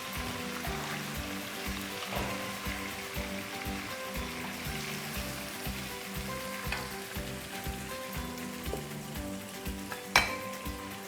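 Spices and tomato puree cook in a pan for a Lahori chicken chickpea curry, giving a soft, continuous sizzle with rhythmic stirring scrapes and a sharper clank near the end, heard close without voices.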